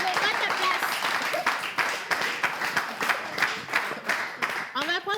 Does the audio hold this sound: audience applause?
yes